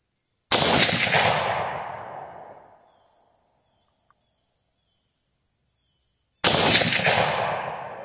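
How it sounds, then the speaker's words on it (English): Two sharp, loud gunshots from a night vision hunting rifle rig crack out several seconds apart outdoors at night, each followed by a long fading echo over a quiet background. "I'm just shooting through the center"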